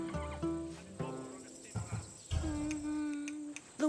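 A horse in the video game Assassin's Creed Odyssey neighs and snorts up close, with short stamping and clip-clop sounds, a rising and falling whinny in the second half, and a voice talking over part of it.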